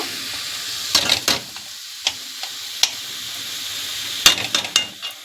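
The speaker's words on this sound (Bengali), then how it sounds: "ভেজে নেব" Fish frying in oil in a pan, a steady close sizzle with stirring scrapes and brief sharp spatters.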